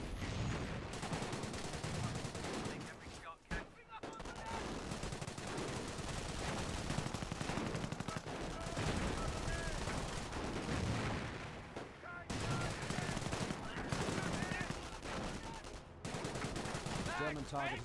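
Dense gunfire fills a Company of Heroes battle, with rifle shots and bursts from a Bren machine gun supporting a trench position. The shooting is continuous and busy with short gaps, and it is heard at a moderate distance with no clear talk.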